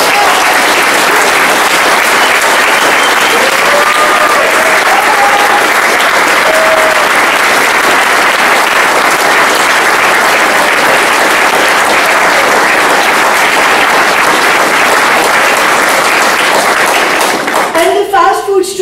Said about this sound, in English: I really want to salute them with an applause